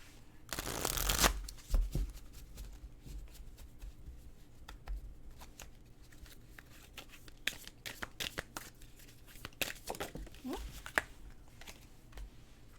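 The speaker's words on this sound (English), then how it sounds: "Let me give these like a really, really good shuffle." Tarot cards are shuffled briskly in a loud riffle, followed by quieter flicks and shuffling sounds against a faint background hum.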